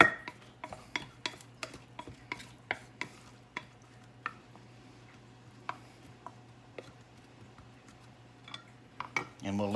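White parts of onions sauté quietly in a pan, a faint low sizzle under a string of scattered metallic clicks and taps of a utensil against cookware, close by but soft.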